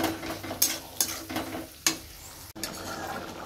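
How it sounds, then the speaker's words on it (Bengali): Spice masala sautéing in a pan while chicken curry is being made, with soft sizzling and a few sharp scrapes of a spoon stirring through the mix, close by and with no voices. "আর এখানে মশলাটা একটু কষানো হচ্ছে।"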